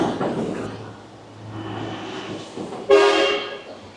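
Large trucks pass a roadside hotel in a narrow canyon city, one sounding a loud horn blast partway through over a steady rumble of traffic.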